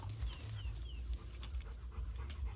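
A Rottweiler pants quietly in short rapid breaths close by, with a few faint bird chirps in the background.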